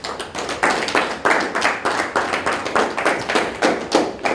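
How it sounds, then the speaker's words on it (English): Audience clapping at a youth skills talk, a steady run of loud, close, dense bursts of many hands beating in a loose repeating rhythm, roughly three or four surges per second, with no talk over it. "I want you to give the third clap now,"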